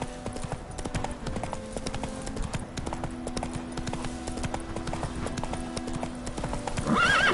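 Horse Roach in The Witcher 3 game, rapid rhythmic hoofbeats galloping steadily with clopping impacts, then a loud whinny near the end; close and clear over faint background game sound.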